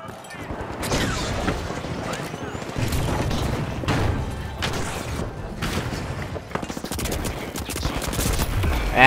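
Dense video game gunfire from a shooter match, with rapid bursts and heavy booming shots rolling continuously and loudly, mixed with an explosion and a voice talking over the chaos.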